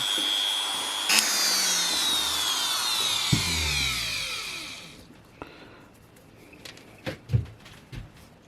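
A repaired wood router runs at low speed with a steady whine that winds down over about five seconds, followed by scattered close knocks and clicks.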